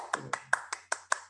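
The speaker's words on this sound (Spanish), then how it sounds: "Ahora Vamos a aplaudir." Audience applause at a live talk event, heard as six evenly spaced sharp claps, moderately loud and alone.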